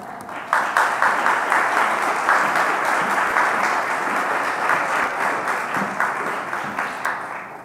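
Audience at a King University lecture applauding to welcome a speaker, steady dense clapping from a large crowd that starts suddenly and holds at a constant level, tapering slightly near the end.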